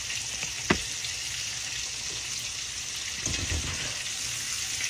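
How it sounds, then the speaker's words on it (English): Catfish fries in hot oil with a steady, close bubbling sizzle, broken by a sharp pop early on and a brief clatter of stirring or handling partway through; no one speaks. "Good old fish fry."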